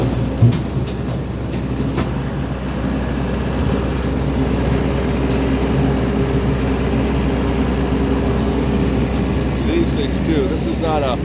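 A little red tractor's engine revving, a steady loud rumbling drone that holds for several seconds, with a faint scrape near the end.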